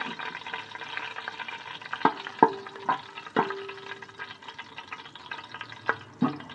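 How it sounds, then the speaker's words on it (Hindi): Whole spices, small cardamom, bay leaf and cinnamon, fry in a pot for mutton mandi, with a soft steady sizzle punctuated by several sharp spoon clinks and scrapes against the pot, close and without speech. "अब इसमें मैं ये डाल दूँ मसाला, इलायची है इसमें छोटी, तेज़पात है, दालचीनी है"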